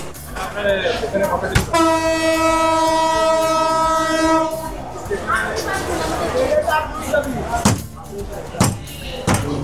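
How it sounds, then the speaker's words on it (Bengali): A train pulling out of Natore station in Bangladesh rumbles close by and sounds a long, loud horn blast, with wheels clattering on the rails throughout. "নাটোর থেকে ছেড়ে দিল আমাদের ট্রেন।"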